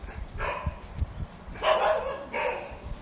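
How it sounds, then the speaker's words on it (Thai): A dog barks in a few separate bursts at moderate distance near a bee hive removal in Ramkhamhaeng, with faint low rumbling in the background between the barks. "หมาเห่าตะพืชเลยครับผม"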